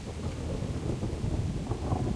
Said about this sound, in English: My goodness, the lightning and thunder in this.